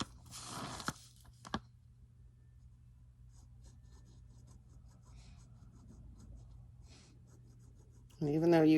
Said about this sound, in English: you can hear the pen scraping across the paper